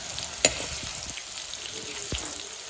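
Cauliflower and peas sabzi stir-frying in a pan at home, with a soft, steady sizzle, a sharp clack of a spoon against the pan, and quiet scraping strokes.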